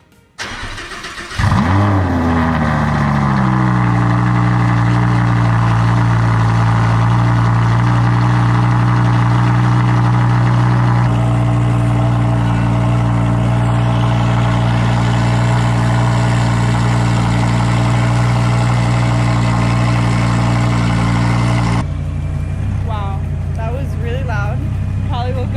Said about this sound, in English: Let's give it that cold start on the Audi R8